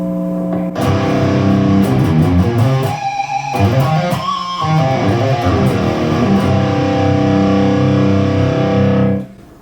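Distorted electric guitar through a 6505 Plus amp, sounding from another room behind two closed doors; loud, sustained crunchy chords and riffs run for about nine seconds before cutting off.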